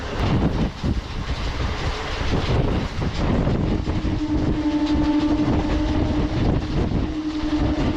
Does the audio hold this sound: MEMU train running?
yes